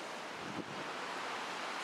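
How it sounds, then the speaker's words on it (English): Strong wind gusts buffet the microphone at a riverside backcountry campsite, a dense, steady roar with a brief dip partway through, no voices. "so windy and noisy."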